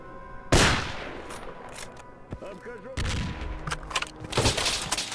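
Bursts of gunfire in the video game STALKER: Call of Pripyat during a foggy firefight, with sharp shots and rattling volleys, loud and close, broken by brief pauses and overlapping with game sounds.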